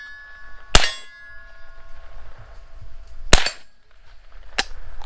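Three sharp gunshots at an outdoor shooting range, spaced irregularly over a few seconds, loud and close, with faint background noise between them and no talking.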